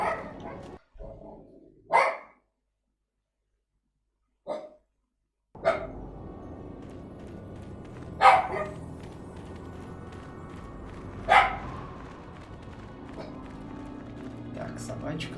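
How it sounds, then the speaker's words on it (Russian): A dog in Star Wars: Knights of the Old Republic, on Tatooine's eastern dune sea, barks in several sharp, loud bursts spaced a few seconds apart over steady game ambience. "собачка тут у меня решила поорать"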